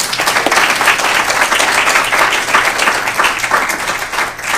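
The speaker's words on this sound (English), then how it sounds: "Round of applause for Jonathan." Loud, full audience applause after an interview, a thick, sustained roar of many hands clapping close by for over four seconds, with a faint low hum beneath.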